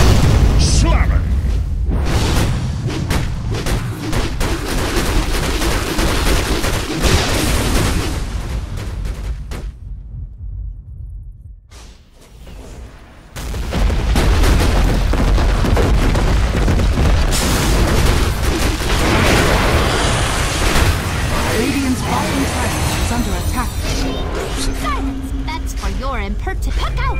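Earthshaker's slam ability in the Dota 2 video game sets off a dense, sustained run of booming explosions, loud and close, breaking off briefly into near silence before the heavy blasts and rumble return.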